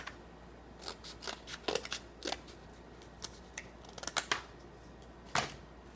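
Scissors cut paper strips of different lengths for a homemade marble run, a steady run of crisp, close snips in uneven bursts with brief pauses, heard alone and fairly quiet.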